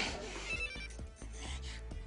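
A telephone rings indoors in repeated short pulses, a steady electronic bell pattern heard close and fairly loud before anyone picks up.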